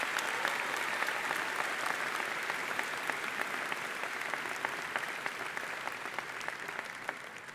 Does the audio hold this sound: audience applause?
yes